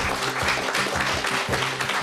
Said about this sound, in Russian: Еще раз аплодисменты Владу и Лоне.